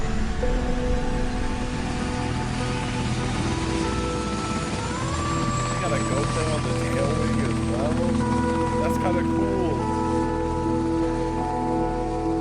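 A Black Hawk helicopter in flight with its door removed, its rotor and engine giving a loud, constant, droning roar with a steady pulse and a higher whine, while a person talks over it.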